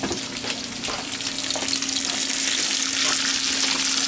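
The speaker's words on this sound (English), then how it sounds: "We got the onions over here cooking." Onions frying in a pot make a steady, loud, close sizzle that keeps up throughout, with no voices over it.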